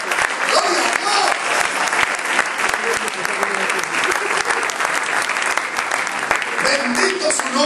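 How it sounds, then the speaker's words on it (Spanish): A church congregation at a Spanish-language service claps loudly and continuously, a thick unbroken wall of hand claps that holds at full strength throughout. "Den un aplauso fuerte a su Señor."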